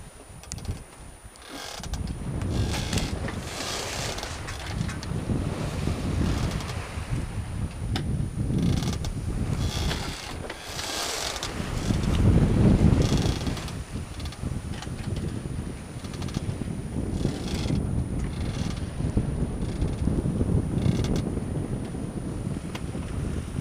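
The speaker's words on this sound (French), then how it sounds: "Mer de face et vent dans le dos, faut le faire." Gusty wind buffets the microphone over a low rushing of water, with occasional creaks and rigging noises aboard a boat.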